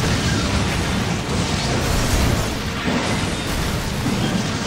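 A loud, sustained rumbling explosion in the video game Resident Evil 6, with dense crackling noise that fills the whole stretch without letup.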